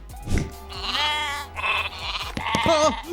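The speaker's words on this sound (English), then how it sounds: "Billy, Goat, and Gruff, or better known as Bo Peep's sheep." Bo Peep's sheep from Toy Story bleat loudly and close up, a string of wavering, nasal calls that overlap one another for about three seconds.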